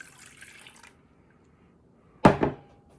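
Milk pouring into a bowl of dry pancake mix for fluffy blueberry pancakes, heard as one short, close liquid splash and gurgle that trails off quickly, after a brief quieter rustle.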